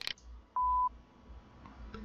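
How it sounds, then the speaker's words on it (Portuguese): A single clean electronic beep, steady and clear, sounds once for about a third of a second against a quiet background. "Bip."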